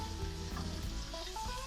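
Hot ghee with cumin seeds sizzles and crackles as it is poured over kadhi, a short, close, continuous hiss without any talk.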